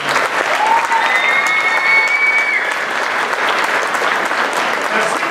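A school show audience gives a sustained round of dense applause, loud and continuous, with a few whistles over the clapping.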